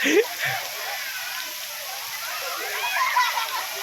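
Water gushing out and splashing while someone tries to cover the outflow, a continuous close rushing spatter with a few sharper splashes, people talking nearby.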